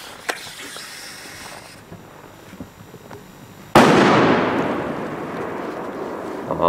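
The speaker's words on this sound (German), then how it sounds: "Achtung Böller von Tomaszek" A Tomaszek firecracker goes off in a single sudden, loud bang after a few seconds of quiet outdoor ambience, the blast then decaying into a long, broad rumble.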